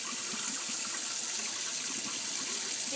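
Steady running water for rinsing a baby during a first bath, a constant close, bright splashing hiss with no break.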